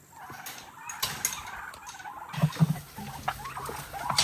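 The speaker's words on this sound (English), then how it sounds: "Look at all these wild turkeys in here." Wild turkeys, a mix of Eastern and Rio Grande birds, gobble in a pen in several loud bursts over a busy background of clucks, scratching and rustling.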